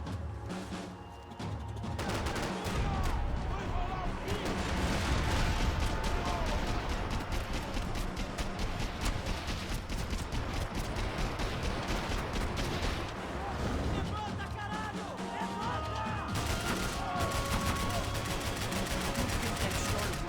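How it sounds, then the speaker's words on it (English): Rapid gunfire with bullets whizzing past, a dense continuous barrage of shots and cracks filling the scene at steady high intensity. "I can't concentrate with bullets whizzing past my head."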